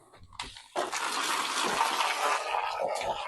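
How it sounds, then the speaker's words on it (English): Water gushes from a hose pipe into a new raised sleeper garden pond, starting abruptly after a few faint clicks and then running as a steady, close rushing splash. "The first water going into the pond."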